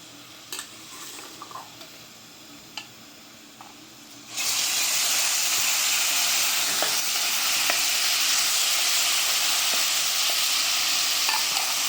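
Spices go into a pan of frying, browned onions, and a loud, steady sizzle and hiss bursts up and continues unbroken after a few quiet clinks and stirring taps beforehand.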